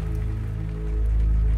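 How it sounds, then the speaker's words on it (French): Steady rain drums on a metal house roof during a night storm, a dense continuous hiss over a low rumbling hum that swells slightly toward the end. "La pluie tambourinait contre le toit en métal de la maison"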